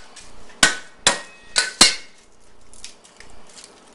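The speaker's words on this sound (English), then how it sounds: "you're going to take the side of your knife and just tap on the garlic" The flat side of a kitchen knife taps on a garlic clove four times with sharp, hard knocks about half a second apart, followed by softer handling noises.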